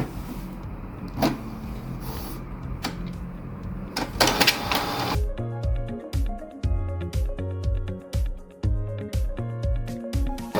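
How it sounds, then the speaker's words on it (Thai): A Canon E4570 inkjet printer prints a nozzle check test page, starting with a low whir and a few clicks, then a loud, rhythmic mechanical buzz as the print head sweeps back and forth. "จะมีการเทสหัวพิมพ์ออกมา1แผ่น"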